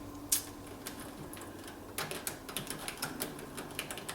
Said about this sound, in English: so I'll just type something in.